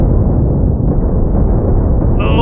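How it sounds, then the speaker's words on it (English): Heavy cannon fire volley in the space combat game The Last Starship, a loud, sustained low rumble of overlapping blasts filling the whole stretch, with a brief higher-pitched tone near the end. "Should be a large volley of cannon fire here."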